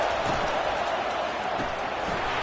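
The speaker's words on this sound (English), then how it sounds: "This crowd bringing the energy and noise early." Steady roar of a big football stadium crowd at Oklahoma during the Alabama game, a dense continuous wash of voices with no breaks and no distinct claps or shouts standing out.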